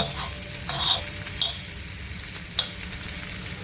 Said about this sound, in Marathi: कारली परतवते आहे।